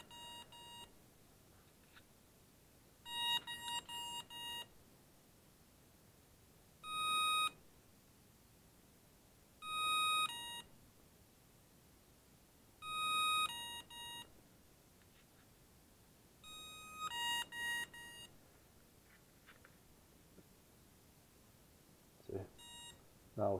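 An Emax BLHeli 20A brushless ESC plays programming tones: groups of short, clear electronic beeps and longer tone bursts spaced a few seconds apart over a quiet background, with faint handling rustle between them.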